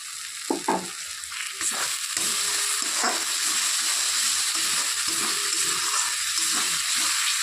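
Spice paste masala for a fish curry sizzles steadily in a hot pan, a continuous bright frying hiss with a few scraping stirs and clicks near the start, close and without talk.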